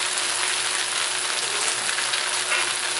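Broccoli stir-fries in a hot pan over medium-high heat, giving a dense, even sizzle that holds steady throughout without any voices.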